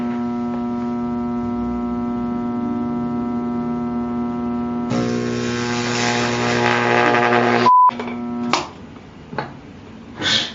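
Hum of a roughly 2-kilovolt high-voltage supply driving a homemade Jacob's ladder arc with a 1 mm air gap: a steady buzzing hum for several seconds, then a louder crackling, hissing arc, a sudden cutout, and a few brief sputtering bursts.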